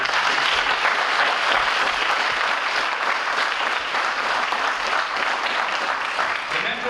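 Sustained applause from the audience at a junior police academy graduation ceremony, a dense, even wash of many hands clapping that holds steady at full strength for the whole stretch.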